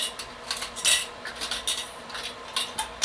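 Metal canning jar lids being lifted out and handled, giving a string of light clinks and taps at an uneven rhythm, close by and fairly quiet.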